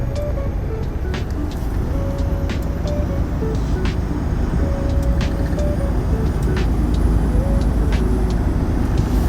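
Steady road and engine noise from a car being driven, a continuous broadband rumble with faint tonal whines and occasional clicks, no voices.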